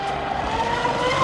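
A large Pro Boat Blackjack 8s RC boat runs at full throttle, its electric drive giving a loud, continuous high-pitched whine that rises slightly over a second, heard close and without talk.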